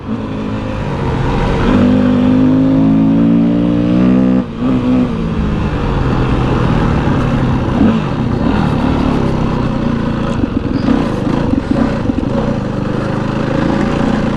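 A dirt bike engine revs hard through a track lap, loud and continuous, with rising and falling throttle surges and no talking.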